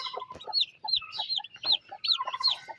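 Several hens cluck and chatter close by in a steady run of short, bright calls with brief pauses, no talk over them.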